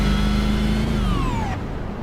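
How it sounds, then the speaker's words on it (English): A simulated NASCAR Xfinity race car engine in iRacing at Auto Club Speedway, a loud, steady droning whine with a synthetic, slightly sci-fi tone, its pitch gliding downward as the car lifts, heard alone and close. "you can hear that new engine sound that iRacing recently implemented"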